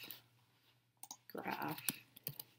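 Computer keyboard keys clicked in a brief burst of several quick taps while a short word is typed, close and moderately loud, with soft speech around the keystrokes.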